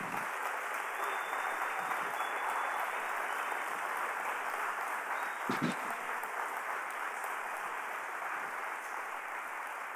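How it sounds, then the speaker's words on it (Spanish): A church congregation applauds during a Spanish-language sermon, a sustained, even wash of many hands clapping at moderate distance, slightly fading toward the end. "Denle un fuerte aplauso a Jesús por esto."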